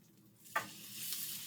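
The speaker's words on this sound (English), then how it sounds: "I know you can hear that sizzle." Tofu in a hot pan hisses as Salisbury sauce is poured in, a sharp burst of sizzling that settles into a steady, fairly loud crackle.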